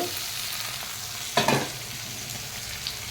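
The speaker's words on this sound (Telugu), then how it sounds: "ఇదిగోండి టమాటా యాడ్ చేసుకోవాలి" Tomatoes dropped into hot frying oil for a village-style curry, bursting into a sharp, loud sizzle and spatter mid-clip over a steady background frying hiss, close up with no voices.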